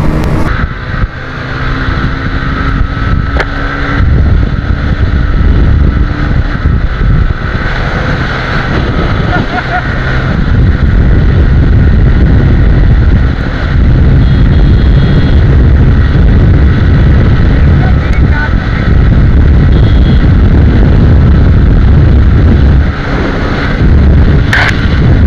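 A Bajaj Pulsar N150 and a TVS Raider 125 race side by side in a drag run, their engines producing a loud, continuous roar close to the microphone, with wind buffeting throughout.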